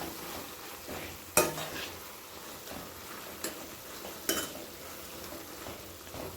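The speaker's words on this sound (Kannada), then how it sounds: "ಹಾಗೆ ಸ್ವಲ್ಪ ಹೊತ್ತು ನಾನು ಎಣ್ಣೆಯಲ್ಲೇ ಫ್ರೈ ಮಾಡ್ಕೊತಾ ಇದ್ದೀನಿ." Tomatoes frying in oil for tomato gojju, a soft steady sizzle with a few sharp spoon clinks against the pan.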